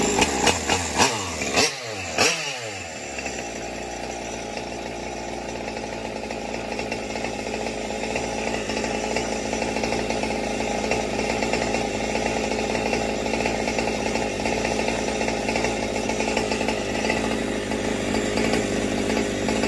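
A Brovan Reedcase 45cc gas engine on a Baja RC car is pulled over with a few sputtering starts, then settles into a loud, steady two-stroke buzz at high idle that runs on alone with no talk.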